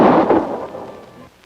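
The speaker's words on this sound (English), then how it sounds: "then I heard a muffled gunshot" A muffled gunshot in a 1954 radio drama: a single dull, thudding report that rolls off into a fading low rumble, with no voices.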